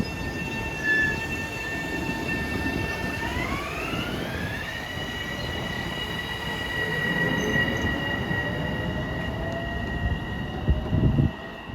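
Commuter train 2064 from Grand Central to Ronkonkoma rolls past at Bethpage with a steady rumble, rising whine and squealing wheels, loud and close, no voices.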